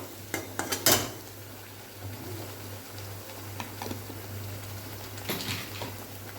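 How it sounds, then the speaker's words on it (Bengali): Spice masala with chilli powder is fried in a pan for doi katla, with clinking and scraping of a spatula against the pan in irregular bursts over a soft sizzle and a steady low hum, with no voices. "এবার মশলাটাকে আমি ভেজে নেব ভালো করে, যাতে মশলায় কাঁচা গন্ধ না থাকে।"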